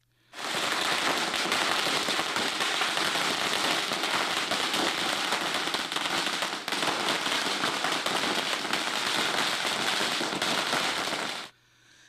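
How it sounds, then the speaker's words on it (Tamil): A long string of Diwali firecrackers bursts in a dense, continuous crackling roar, loud and unbroken for about ten seconds before it cuts off abruptly. "பட்டாசுகளை வெடித்து இனிப்புகளை பரிமாறி தீபாவளியை உற்சாகமாக கொண்டாடினர்"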